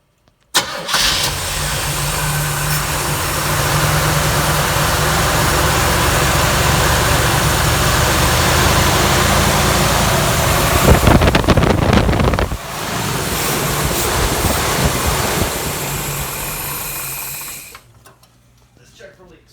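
A Camaro engine cranks and catches, then settles into a loud, steady idle up close, with a brief revving surge near the end before it shuts off; some wind buffeting on the microphone.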